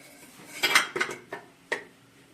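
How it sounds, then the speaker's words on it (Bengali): A metal bowl set down inside a preheated pressure cooker while baking an eggless cake, giving several sharp clanks and scrapes of metal on metal, close and clear with no talking. "এবার ওর মধ্যে একটা বাটি বসিয়ে দিলাম"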